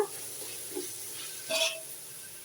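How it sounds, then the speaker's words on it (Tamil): Green chilies, mint and coriander sautéing in a pan for vegetable biryani, a soft steady sizzle with a brief louder stir partway through, close and quiet, with no talk. "இது கூட நல்லா வதக்கிடுங்க"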